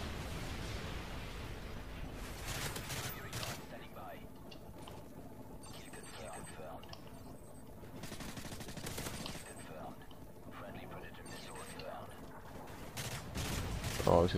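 Bursts of MP9 submachine gun fire in Call of Duty MW3, a close-quarters weapon in a Resistance Destruction match, rattling in repeated short volleys amid game noise and mechanical clicks, with a player talking over it.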